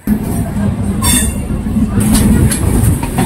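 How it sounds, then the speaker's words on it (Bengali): Loud, close rumble of the 18003 Baghajatin Express, a Bhadrak to Howrah train, at Howrah station, with wheels squealing and clattering over the rails throughout. "18003 বাঘাযতীন এক্সপ্রেস দাঁড়িয়ে রয়েছে, হাওড়ায় ঢুকবে ট্রেনটা।"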